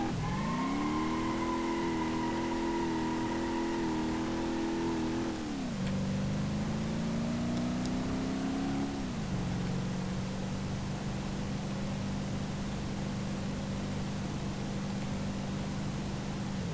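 A classic four-door muscle car engine in BeamNG.drive, droning loud and steady, then dropping in pitch as it shifts and holding a lower even hum, with no talking.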